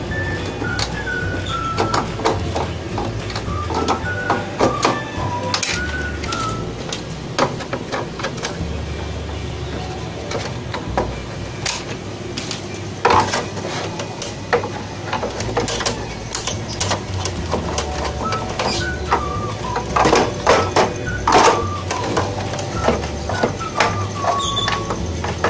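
A Phillips screwdriver working on the casing screws of a Canon IP2770 inkjet printer, steady close scraping and clicking with faint metallic squeaks, sounding continuously and loudly for the whole stretch without any talking.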